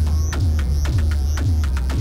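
A Bastl Dark Matter Eurorack feedback module producing a deep, aggressive droning hum with rhythmic pulsing modulation and sweeping high-pitched bursts, loud and continuous.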